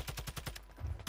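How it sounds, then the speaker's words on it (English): Rapid automatic gunfire in Warzone 2 with a TAQ 56 rifle, a run of evenly spaced loud bursts that pauses briefly, then a heavier cluster of close shots near the end. "I'm taking fire."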